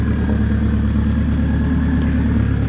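A car fitted with a new, loud aftermarket exhaust idles with a steady, deep rumble, close and constant, with no clear rev changes and no voices.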